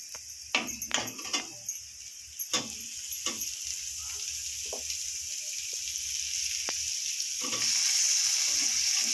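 Tomatoes hitting a hot pan of sautéed green chillies and curry leaves for a potato and green peas gravy: several sharp clatters and stirring taps early on, then a steady sizzle that swells louder toward the end.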